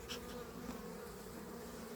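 Honeybees buzz steadily at an opened hive during an early-season colony inspection, a dense, continuous droning hum close by that holds level throughout with no talking.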